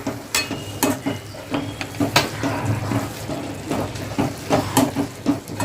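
Ground coriander and cumin powder get stirred into a sizzling pan of spinach and potato, with repeated sharp scraping clicks of a spoon against the pan over a steady frying hiss.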